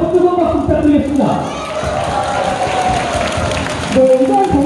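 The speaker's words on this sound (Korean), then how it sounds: "다시 한번 뜨거운 박수 부탁드리겠습니다" A live audience at a community club stage event gives warm applause. The clapping washes steadily under background music, with voices nearby.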